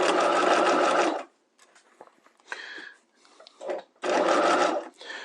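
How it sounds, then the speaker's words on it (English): A sewing machine stitching a gathered seam runs in loud, close bursts of rapid stitching, one at the start and another near the end, separated by quiet pauses with fabric shuffling and brief short runs. "I'm going to stitch at my full 1/2 inch now so that we don't see those gathering stitches"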